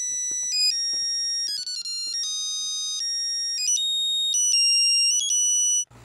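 An electronic ringtone trills loudly in a fast repeating melody of high beeping tones, continuing for several seconds before cutting off abruptly.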